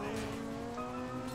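In GTA V, a car engine revs and drones with tire squeal as it drives, a continuous moderately loud vehicle sound with shifting engine tones.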